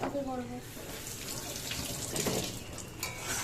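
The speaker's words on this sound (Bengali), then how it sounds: "ওইটা জল ছাড়ছিস কেন শুধু শুধু জলটা নষ্ট করছিস" A kitchen tap runs with water splashing into a sink, a soft steady rush heard close by, with a voice talking over it at the start.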